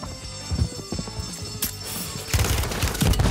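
Rapid bursts of gunfire in Warzone on Rebirth Island, sharp overlapping shots in quick clusters that build into a heavier, louder barrage toward the end.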